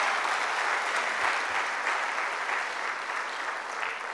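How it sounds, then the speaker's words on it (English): An audience at an annual public lecture applauds, a dense, even wash of clapping that holds steady throughout and tapers slightly near the end. "Let's give another applause."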